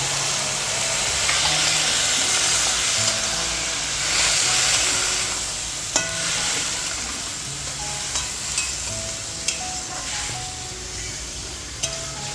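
Okra with salt, turmeric, ground green chili and a splash of water simmers in a covered pan, giving a continuous steamy hiss punctuated by occasional sharp ticks and pops.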